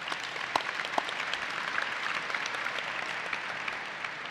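A conference audience applauds a keynote panel with steady, dense clapping throughout, a few sharper claps standing out near the start, no voices over it.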